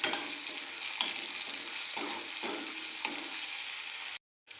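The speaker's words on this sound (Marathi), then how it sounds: "आपला कांदा आता चांगला लालसर परतून झालेला आहे" Chopped onion fries in oil in a pan until reddish for phodnichi poli, a dense continuous sizzle with soft stirring scrapes, close and steady before cutting off abruptly near the end.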